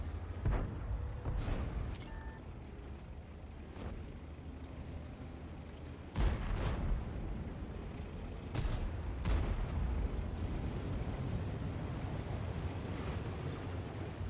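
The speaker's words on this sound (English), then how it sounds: "Artillery?" Artillery shells in the World of Tanks video game strike with a few heavy booming impacts, near 1.5, 6 and 9 seconds, over a constant roar of wind and rumbling engine noise.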